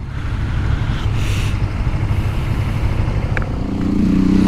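A Honda CB 300F Twister running with its air filter removed gives a loud, steady engine drone while riding, and the pitch rises a little near the end.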